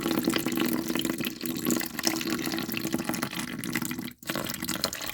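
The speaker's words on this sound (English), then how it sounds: "I'm going to go ahead and add water to this." Water poured from a container onto cardamom seeds to soak them, a continuous splashing trickle that runs steadily and cuts off briefly near the end before resuming.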